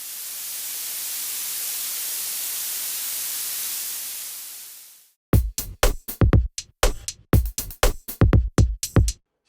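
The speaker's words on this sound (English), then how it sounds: "here's the spectrum and waveform for blue noise" Bright, hissy blue noise from a DIY noise synthesizer module, a steady treble-heavy wash for about five seconds that stops abruptly, followed by a run of short, sharp rhythmic bursts.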